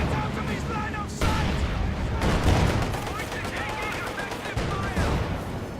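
Gunfire crackles through a chaotic WWII strategy game battle, with dense repeated shots and bursts layered over continuous loud combat noise and game sound effects, a voice talking over parts of it.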